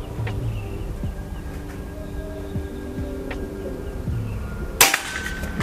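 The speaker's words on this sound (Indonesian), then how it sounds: "Tembakan ketiga." A single sharp PCP air rifle shot cracks out near the end after several seconds of low background hum and faint rustling.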